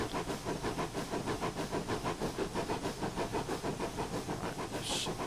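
A pannier tank steam locomotive on the Penryn Bay Steam Railway in a train simulator game chuffs in a steady, rapid exhaust rhythm. Continuous hiss sits underneath, and a short higher burst of steam comes near the end. It is loud, close and alone.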